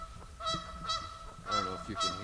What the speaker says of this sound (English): These geese down here are not happy that I'm walking towards them.